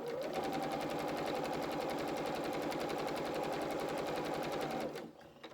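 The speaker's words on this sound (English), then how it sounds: "every time we stop on my machine, my needle stops in the work" Sewing machine stitching fabric frills, a fast even stream of needle clatter at close range, running steadily for about five seconds before stopping, leaving quiet.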